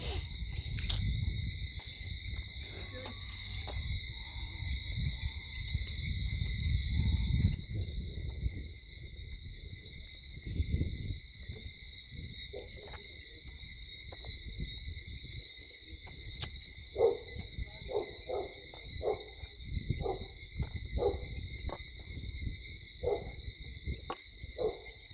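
Birds call in the evening outdoors, with soft hooting early on and a run of short chirps later, all over a steady high drone of crickets and distant low rumble.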